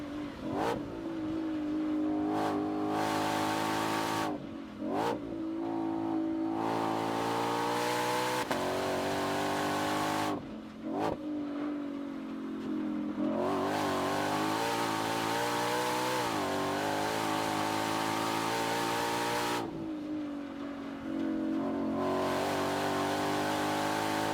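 A Ford Mustang GTD with an 815 hp engine revs hard through repeated pulls, its loud exhaust rising and falling in pitch between brief gear-change dips, close and continuous with no talking.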